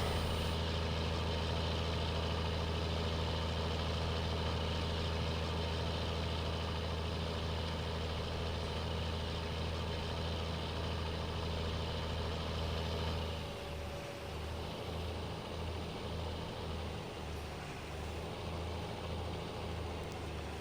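A tractor engine idles while plowing in Farming Simulator 19, a steady, low, even hum that shifts to a rougher, pulsing rumble in the later part, with no voices.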